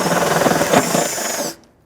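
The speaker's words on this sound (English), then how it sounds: "switch the drill into reverse" A power drill with a 17/32 bit runs in reverse to finish a hole in a Jeep Wrangler fender's sheet metal, a loud close whining buzz with a small grinding bump midway, then cutting off abruptly into silence.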